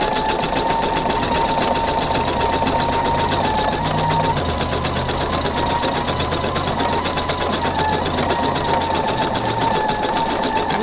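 A sewing and embroidery machine couches yarn with rapid, steady stitching, a continuous close mechanical whir and needle chatter that runs unbroken and loud throughout, with no talking.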